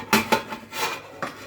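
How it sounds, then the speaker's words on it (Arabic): A pressure cooker lid is fitted on and turned to lock, producing a few sharp metallic clanks and scrapes close by, spaced irregularly. "نروح قافلين، ندخل الغطا كده، نحط الحرف ده على الحرف ده كده"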